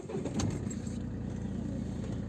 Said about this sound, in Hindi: गाड़ी को करता हूँ स्टार्ट